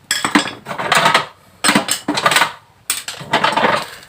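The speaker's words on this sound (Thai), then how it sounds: "อ่าผมจะใช้ไขควงแบนตัวนี้เสียบลงไป" A flat screwdriver scrapes and clinks against a stripped, saw-slotted crankcase cover bolt on a Yamaha Fino motorcycle, in three separate close metallic bursts with short quiet gaps between them.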